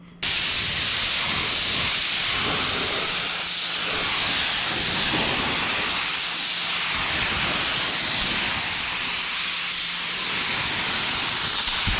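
Spray gun laying a coat of candy apple red paint on a motorcycle, giving a continuous loud, close hiss that holds steady throughout with slight swells as the gun moves.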